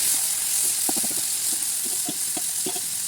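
Chicken pieces frying in hot oil with onion and bay leaf in a kadai, a steady close sizzle with soft scraping stirs breaking through now and then.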